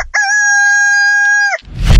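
A boy imitates a rooster's crow with his voice, giving one loud, sustained, clear cock-a-doodle-doo call lasting over a second, followed by a burst of noise as it ends.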